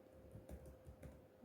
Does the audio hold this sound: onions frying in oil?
no